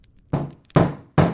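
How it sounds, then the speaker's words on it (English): Three heavy metallic knocks from a robotic fist on a door, evenly spaced and close, each a loud thud with a short ringing decay, no voices. "A robotic fist knocks on the door."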